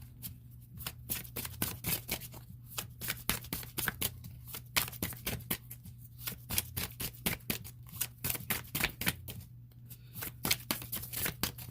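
Tarot cards are shuffled close up in a quiet room, with rapid irregular riffling flicks and slaps in bursts and brief pauses between them.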